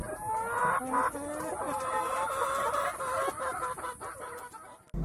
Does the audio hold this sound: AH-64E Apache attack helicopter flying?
no